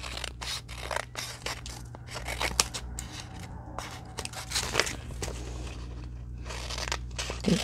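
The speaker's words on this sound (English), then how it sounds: "I just go real close and just take a sliver of the edge off" Scissors snipping a thin sliver off the folded edge of a paper window belly band, a series of close, crisp cutting strokes with light paper crinkling between them.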